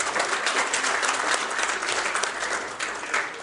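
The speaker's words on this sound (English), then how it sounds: "Let's give him another round of applause" Audience applause in a room after a speech at a student competition welcome, dense steady clapping from many hands, close and loud throughout with no talking.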